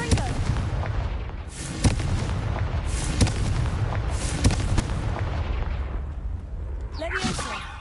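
Confringo blast spells exploding in the video game Hogwarts Legacy on PS5, a run of sharp booming bursts repeating every second or so over a dense rumbling background of game noise.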